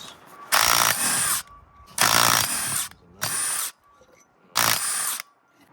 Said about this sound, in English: we're just going to remove just one of the bolts